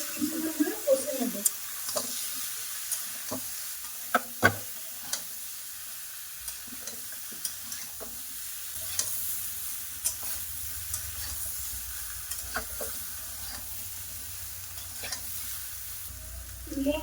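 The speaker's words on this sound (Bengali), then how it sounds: "সবজি মশলাকে বেশ কিছুক্ষণ ধরে কষে নেব।" Vegetables and spice masala stir-fried in a pan, a soft ongoing sizzle punctuated by sharp spoon taps and scrapes against the pan at irregular intervals, close and fairly quiet, without speech.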